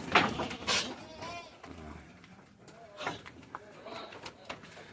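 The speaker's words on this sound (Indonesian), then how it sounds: "itu ini kambing-kambing kita yang di bawah" Goats being fattened in a pen below a building bleat intermittently in the background, faint and somewhat distant, mixed with bird calls and someone speaking nearby.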